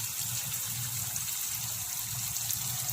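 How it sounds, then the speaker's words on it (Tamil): Cooking oil poured into a pan while making spicy chicken varuval, a steady liquid gush with a low stove hum underneath, constant and close for the whole stretch. "கொஞ்சம் ஆயில் நீங்கள் உங்களுக்கு தேவையான அளவு ஊற்றினா போதும்"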